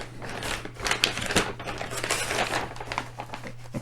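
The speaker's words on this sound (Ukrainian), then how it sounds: "І поміщуємо це все в зовнішній пакет." Plastic packaging of a flameless ration-heating pack crinkles and crackles in irregular bursts, handled up close, with a faint steady hum underneath.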